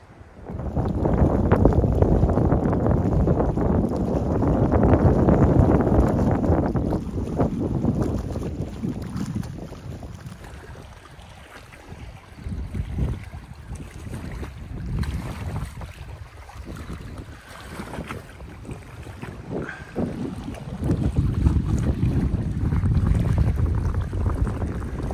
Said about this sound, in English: the wind is going to be horrific